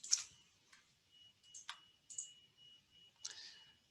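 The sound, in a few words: computer mouse clicking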